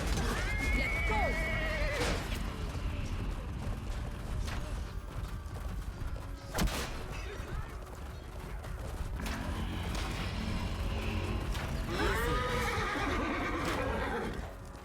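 Horses in the medieval combat game Chivalry 2 whinny loudly several times amid clattering hooves, creaking mechanisms and battle noise, with neighs at the start and again near the end.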